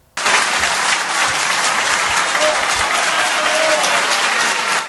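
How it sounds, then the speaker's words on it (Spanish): An audience applauds and cheers at a political conference of Spain's PP party, a loud, dense burst of clapping that starts abruptly and holds steady for several seconds. "aplaudiendo, gritándole bravo"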